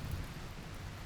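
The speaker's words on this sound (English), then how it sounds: "There is rain now" Steady rain falls in the Rimworld video game, a soft continuous hiss with a low rumbling undertone, level throughout with no distinct drops standing out.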